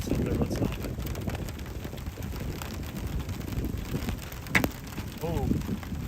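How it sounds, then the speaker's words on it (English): Hail falling during a violent EF4 tornado storm near Hedrick and Keota, Iowa, a steady rattling wash of stones and rain beating down close by under gusting wind, with a sharper impact near the end. "I see hail, so let's stop it."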